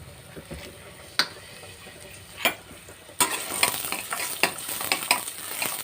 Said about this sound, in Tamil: இது கொஞ்சமாக எண்ணெய் ஊற்றிட்டு அப்படியே வறுத்து எடுத்துக்கலாம்